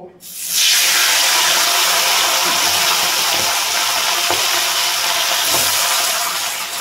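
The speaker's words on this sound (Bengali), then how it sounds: "তাহলে আগে মাথা দুটো ভেজে নিই" Hilsa fish heads hit hot oil in a wok with a sudden loud hiss that settles into a steady, broad frying sizzle, with a few faint clinks underneath and no talking.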